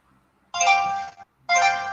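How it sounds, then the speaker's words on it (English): A mobile phone rings in two bright, electronic bursts, each lasting about three-quarters of a second, separated by a short gap. The rings are close and clear, with no talking. "My phone going off."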